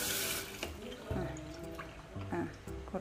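Water splashes and trickles as it is poured out while bottles are filled for the fridge, uneven gurgling pours and drips close by, mixed with voices in conversation.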